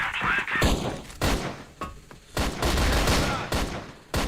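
Rapid gunfire spray in a competitive CrossFire-style shooter match at a grand finals event, bursts of shots and thuds recurring across the moment, with faint commentary mixed underneath.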